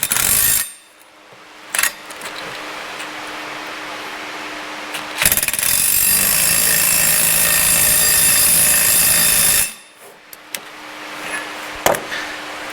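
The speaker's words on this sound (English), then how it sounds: "and then you just get yourself an impact, and it'll pull the stud in." An impact wrench pulls a wheel stud into the hub of a Fox Body Mustang, with a short rattling burst, a loud sustained hammering run of several seconds, then a few brief quick bursts, all close up with no talking.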